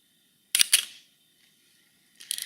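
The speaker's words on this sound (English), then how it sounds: "See how the shutter moves." A camera shutter set to an eighth of a second fires up close with a quick pair of sharp mechanical clicks. After a short silence, another shutter release begins.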